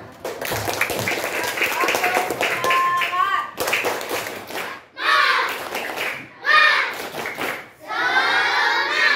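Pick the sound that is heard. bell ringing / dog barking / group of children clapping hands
group of children clapping hands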